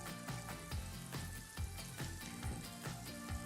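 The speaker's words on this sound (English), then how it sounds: "We bring the broth up to a boil. And we add the pasta." Broth at a rolling boil in a pot with orzo pasta just added, giving a steady bubbling, sizzling wash with soft irregular pops, fairly close and continuous, with no voices.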